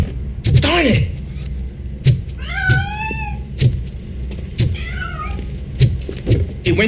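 A cat in the video game RoboCop Rogue City meows several times in short, clear rising calls, mixed with thumps and scuffling as it escapes, while a voice talks over it.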